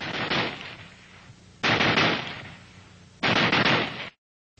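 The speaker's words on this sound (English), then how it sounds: "if you flick this change lever, you can fire at the full automatic rate" A Browning Automatic Rifle firing at its full automatic rate, three loud sharp bursts separated by short decaying gaps, close and harsh, ending in silence.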